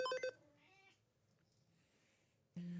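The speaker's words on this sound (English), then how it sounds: "My cat wants you all to know that she is indeed still a cat" A pet cat lets out a short, close meow, followed by quiet room sound and then a faint second vocal at the end, with no talk.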